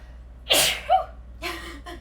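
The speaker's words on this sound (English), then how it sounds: "Sorry, I have to sneeze." A single loud sneeze close by during a yoga class, preceded by a sharp intake of breath, followed by a softer exhale and a brief sniff.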